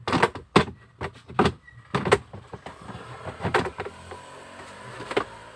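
The glove compartment of a Toyota Avanza is pulled open, a series of close plastic clicks, knocks and rattles in uneven bursts with no talk.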